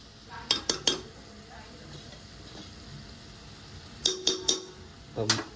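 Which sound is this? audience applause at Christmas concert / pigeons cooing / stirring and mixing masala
stirring and mixing masala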